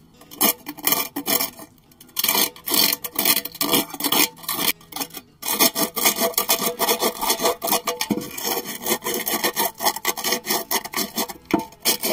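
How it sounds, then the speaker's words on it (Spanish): Rhythmic, raspy strokes of sandpaper rubbing burrs off wood, repeated quickly and steadily up close, with brief pauses between passes. "podemos ayudarnos de un pedazo de lija y ayudarnos a quitar esas rebabas"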